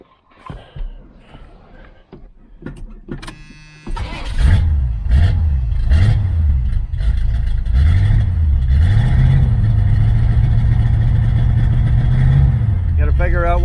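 A 1978 V8 Nova hot rod with headers and a new true dual exhaust fires up after a few clicks and knocks, then idles loudly up close and revs repeatedly in rising and falling swells.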